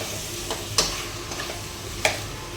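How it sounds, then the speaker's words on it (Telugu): Drumsticks stirred into masala frying in oil give a soft, steady close sizzle, with a couple of sharp utensil taps against the pan during mixing for a mixed veg and non-veg curry. "మునక్కాయలు వేసి ఆయిల్లో బాగా కలిపేసుకోవాలి ఈ మసాలాలో."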